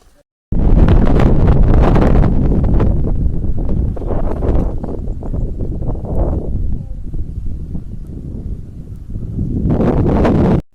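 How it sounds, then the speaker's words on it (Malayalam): Strong wind at the Koorumala viewpoint on top of a watch tower in Ernakulam roars and buffets close against the microphone. The gusts are loud and continuous, ease a little midway, then build again. "കാറ്റടിക്കണ സൗണ്ടാണ് കേട്ടേട്ടാ"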